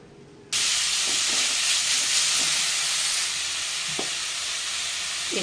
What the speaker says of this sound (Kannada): ಬೀಟ್ರೂಟ್ ಸಹಿತ ಸ್ವಲ್ಪ ಚೆನ್ನಾಗಿ ಬಾಡಬೇಕು ಒಗ್ಗರಣೆಯಲ್ಲಿ.